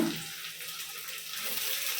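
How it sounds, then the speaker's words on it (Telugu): Fresh water poured over cut brinjal pieces to rinse them, a steady close splashing stream like a running tap filling a vessel, continuous and even for about two seconds with no voice. "మళ్ళీ వంపేసి అంటే మంచినీళ్ళు పోసాను"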